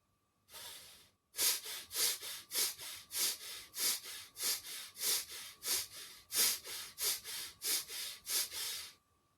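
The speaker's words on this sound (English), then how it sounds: "So just breathing in, and then we'll just force it a little bit on the out breath." A quick run of about twenty forced out-breaths in pranayama breathing practice, sharp hissing puffs in a steady rhythm after one short opening breath, close and alone.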